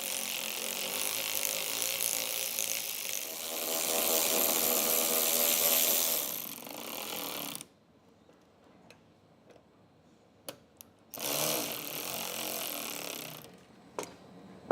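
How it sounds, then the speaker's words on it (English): A hand ratchet turns the bolts on an Atlas roof rack fitted to a 2024 Land Cruiser 250, with long bursts of rapid clicking separated by quiet gaps and a few isolated sharp ticks, close by. "Break, and then you can loosen the two bolts."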